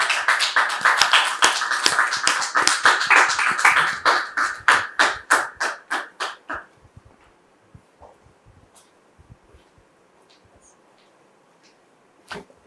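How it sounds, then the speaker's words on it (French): A live audience claps enthusiastically to welcome two arriving guests, dense sustained applause that thins into scattered claps and fades out, leaving faint room noise and a few isolated taps. "vos applaudissements, s'il vous plaît."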